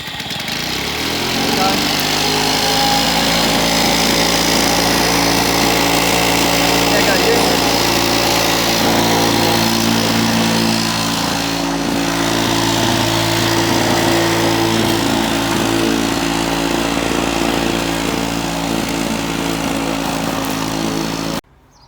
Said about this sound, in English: this electric start Victa 2-stroke lawnmower